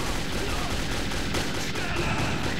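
Enemy gunfire in Metro 2033, a dense, continuous clatter of shots and bursts at steady loudness across the whole moment.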